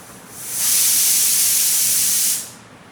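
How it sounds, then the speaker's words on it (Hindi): A pressure cooker whistles as it vents steam while dal cooks, a loud sustained hiss that swells in, holds steady for about two seconds, then fades quickly. "तो गाइस, हमारे कुकर की सीटी आ गई है फाइनली।"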